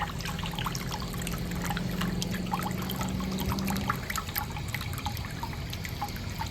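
Water pours and trickles into a bucket for boiling peanuts, a steady close stream with small splashes and drips that continues throughout.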